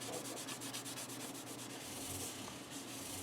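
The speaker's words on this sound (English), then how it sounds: "I rubbed them with an eraser." Guitar frets on a Fesley Telecaster rubbed with an eraser, a steady close scrubbing with quick regular back-and-forth strokes, continuous and fairly loud throughout.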